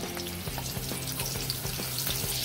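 Butter melts and sizzles in two tablespoons of hot oil in a pan for a malai kofta curry gravy, a steady close hiss with small crackling pops and occasional stirring scrapes, with no one speaking.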